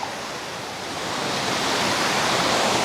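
Palina Falls, a waterfall, roaring as a dense continuous rush of water that swells slightly louder partway through, with no voices over it.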